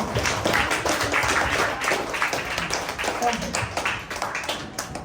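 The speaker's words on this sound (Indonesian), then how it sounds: "kita boleh tepuk tangan ya buat diri kita semua" A class of students clapping their hands together in a dense, steady round of applause that fills the whole stretch at even loudness, with voices mixed into the noise.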